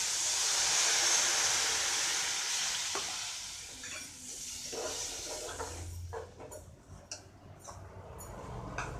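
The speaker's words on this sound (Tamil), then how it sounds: "புளி கரைச்சி இதில் ஊற்றிடலாம்." Tamarind water hits a hot pan of fenugreek kuzhambu with a loud rushing sizzle that gradually fades, followed by quieter bubbling and scattered stirring clinks.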